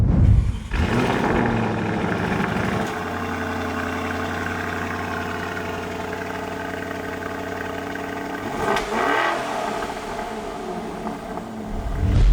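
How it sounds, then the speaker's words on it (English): A powerful SUV engine with an Akrapovic performance exhaust fires up, then holds a deep, steady rumble with harmonic drone, swelling again near the end as it revs; no talking. "let's fire this thing up and see what that Akrapovic exhaust sounds like."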